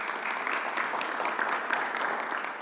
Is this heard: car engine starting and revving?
no